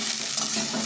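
Vegetables with cauliflower sizzle steadily in a pan while being stirred, a close, even frying hiss with soft scraping, no talk.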